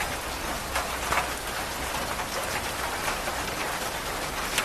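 Steady heavy rain falls at night on the streets of Kolkata, making a dense, even hiss of drops on surfaces with no voices.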